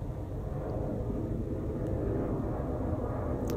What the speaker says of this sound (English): that plane's really loud